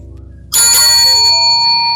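A bright notification bell rings once with a sharp metallic strike, then fades out with a shimmering ring, loud and clean. A soft low tone comes before it, and no one talks.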